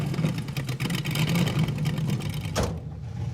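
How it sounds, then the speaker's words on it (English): A Mazda car engine revs loud and steady during a burnout attempt, with a rough continuous drone that climbs and then ends in a sharp tail-off. "I'm gonna chalk the front wheels and we'll try a burnout"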